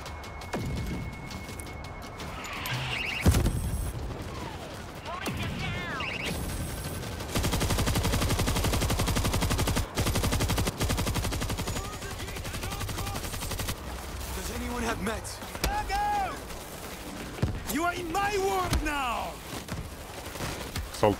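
Rapid automatic gunfire from a World War Z: Aftermath firefight, loud sustained bursts and scattered single shots with crashes, mixed under excited voices talking.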